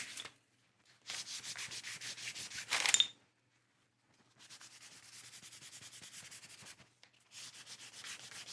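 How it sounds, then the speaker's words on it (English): Sandpaper wrapped around a veg tan leather edge, pulled along it in several rasping strokes separated by short pauses, close and fairly quiet. "wrap your sandpaper around it, hold it with your hand, and pull"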